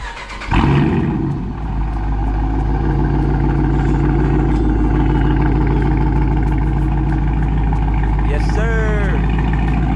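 A 2021 Dodge Charger Hellcat Redeye Widebody with mufflers deleted cranks and fires up on a cold start, then the exhaust settles into a loud, deep, rumbling idle close by, with a brief whistle near the end.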